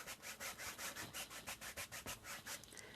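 A natural bristle brush scrubs paint across canvas in quick, rhythmic back-and-forth strokes, about five per second. The scratchy brushing is close and steady, with no voice.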